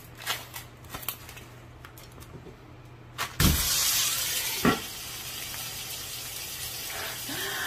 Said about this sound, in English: Once the pan is heated, we're going to throw down our ground beef.